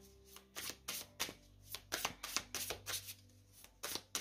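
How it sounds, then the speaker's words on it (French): Tarot cards handled on a table: a quick run of soft, close card slaps and shuffling flicks in an uneven rhythm, quiet and with no voice over them. "on va mettre une carte sur le 2 d'épée"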